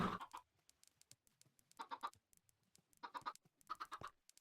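Blocky chicken clucks from the Minecraft game world, several short bursts in irregular clusters, fairly quiet with gaps of near silence between them.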